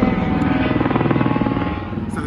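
A steady tour helicopter engine drone in Las Vegas, with a rhythmic rotor buzz, fairly close and continuous throughout.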